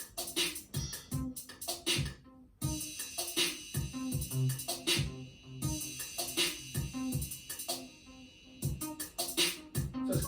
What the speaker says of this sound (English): So then I had these rising waves that sound like this